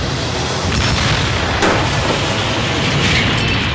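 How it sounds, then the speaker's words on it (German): A deep ship's cannon boom rises out of a constant roar of broadband noise, with a sharp blast near the middle of the clip. "Der Besanmast der Concepción wird mit gezieltem Schuss gefällt."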